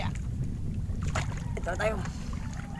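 Wind buffets the microphone in a steady low roar aboard a small boat on rough sea, with someone speaking briefly over it.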